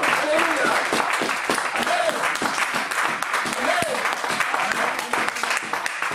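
A church congregation claps steadily in a continuous wave of applause, with voices calling out over it.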